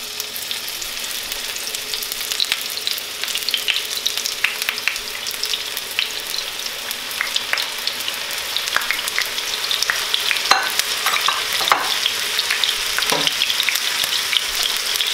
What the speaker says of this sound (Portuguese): Colocamos a nossa batata para dar uma cor à nossa batata.